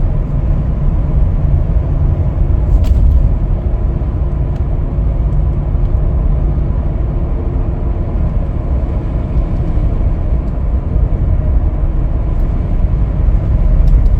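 A 2022 Ford F-250 XL crew cab 2WD truck drives along with a smooth, steady low engine and road rumble inside the cab, continuous and fairly loud with no talking.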